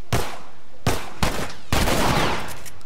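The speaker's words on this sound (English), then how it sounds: "I gotta get my shotgun out for this one" Shotgun blasts in the video game The Last of Us: three loud, separate booming shots with sharp attacks and short decaying tails, spaced unevenly about half a second to a second apart.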